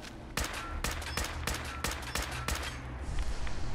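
Rapid gunfire in Fallout 4 aimed at a nuke at Sentinel Site Prescott: about ten sharp, loud shots in an uneven burst, followed by a denser clatter of shots at the end, with no talking.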